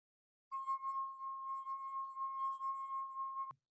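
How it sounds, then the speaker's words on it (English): Wine glass held down at its base and made to ring by resonance, giving one steady sustained pure tone with faint overtones for about three seconds, ending in a small knock. "this base is what allows the glass to vibrate"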